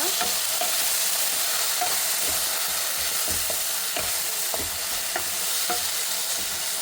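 Onions and garlic paste frying in mustard oil for mutton curry give off a continuous sizzle, while a spatula stirs the pan with regular scraping strokes at close range and nobody speaks.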